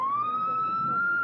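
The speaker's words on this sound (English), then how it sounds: "real police siren, huh? And that's only a fraction of how loud it can sound." A short test blast of a real police siren, one steady rising wail close and clear, heard alone for just over a second.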